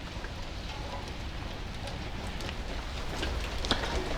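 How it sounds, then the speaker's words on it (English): Gentle drizzle falls steadily outdoors, a soft, even patter of light rain with scattered faint drops and one brief tap near the end, no voices. "this drizzle or fat drizzle that I'm kind of explaining is kind of a gentle rain"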